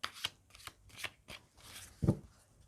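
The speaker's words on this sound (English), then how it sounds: "let's shuffle the cards and see what the cards have to say for you" Tarot cards being shuffled by hand, several quick riffling flutters and soft slaps in uneven bursts, close and fairly quiet, without talk.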